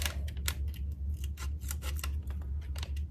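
Scissors snip through a toy package during an unboxing, with a quick series of close, crisp cuts in an irregular rhythm and no talking.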